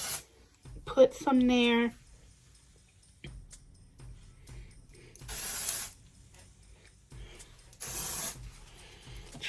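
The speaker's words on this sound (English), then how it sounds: "now I'm going to go in with this dry shampoo" Dry shampoo is sprayed onto braided hair in two short, close hissing bursts separated by quiet moments, with a person speaking briefly near the start.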